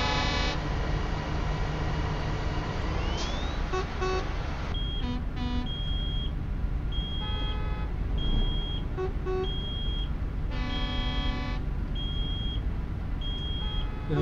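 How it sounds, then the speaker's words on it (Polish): Repeated electronic alarm beeps sound in bursts over a steady engine and road drone inside an electric Scania S BEV High Roof truck in a driving video game. "cholerny alarm"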